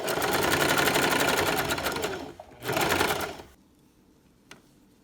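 Sewing machine stitching a zigzag seam through several layers of a 0-3 month baby sleeper, running loud and steady in a near, fast whir that breaks off briefly, resumes, then stops, leaving quiet.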